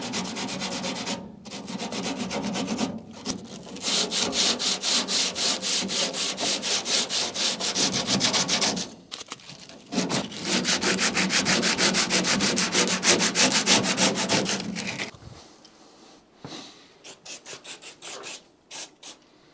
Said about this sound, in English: It's now dry, and I'm gonna sand it down a bit just to make it not that obvious that it's filler.